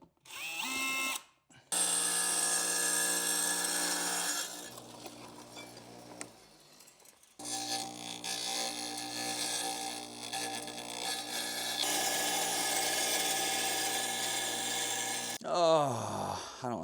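Power screwdriver backing screws all the way out during a home renovation, a steady high whining drill motor running in long sustained bursts with brief pauses, close and loud, ending in a short rising whir.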